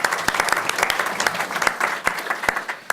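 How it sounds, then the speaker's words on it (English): An audience at a nursing school oncology roundtable breaks into applause, with dense, scattered clapping near and moderately loud throughout. "Let's give her a round of applause"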